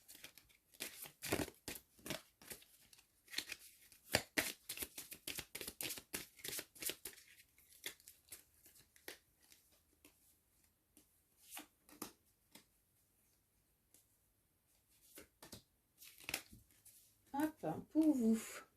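Oracle cards for shamanic healing are shuffled and drawn, making rapid close riffling and papery snaps in dense bursts. The cards then go quiet with sparse flicks, and a voice speaks briefly near the end.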